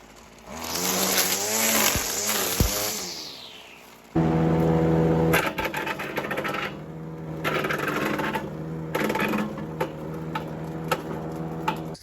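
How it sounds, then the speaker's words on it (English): Small chainsaw cutting wood on the grounds of a French château, its engine buzzing and revving in bursts with a falling pitch, then settling into a steady idle broken by sharp surges as it bites. "Still really happy I got this little steel chainsaw. It's doing good."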